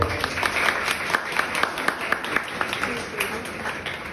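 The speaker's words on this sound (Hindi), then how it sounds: "मुझे अप्रिशिएट करना है तो एक ताली हो जाए" Audience in a room giving a round of appreciative clapping, a moderate scattered patter that fades slightly toward the end, heard beneath ongoing talk.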